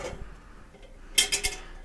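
A metal lid comes off a cooking pot sitting on a side burner, giving a few quick bright clinks after a quiet start.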